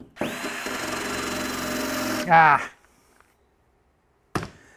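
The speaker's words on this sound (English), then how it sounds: "This is what I was talking about with even a wire wheel." A wire wheel grinding a rusty car floor panel makes a loud, steady whirring grind for about two seconds, rises into a harsh burst, then cuts off, followed by silence and one brief clunk.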